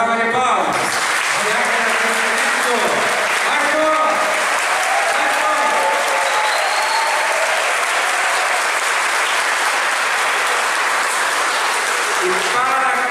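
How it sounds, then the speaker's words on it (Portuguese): A parish audience at Sagrada Família applauds in tribute to Sister Gracita, loud sustained clapping from a large crowd, with voices calling out and talking over the start before the applause carries on alone. "uma salva de palmas"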